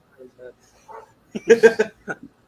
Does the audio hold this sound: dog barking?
yes